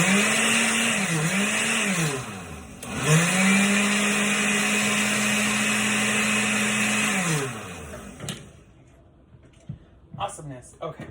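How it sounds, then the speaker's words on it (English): Kitchen blender running on pineapple, cucumber and water for juice, its loud motor whine dipping twice early on, then holding steady before cutting off, followed by quiet handling clicks. "I'm gonna turn on this blender."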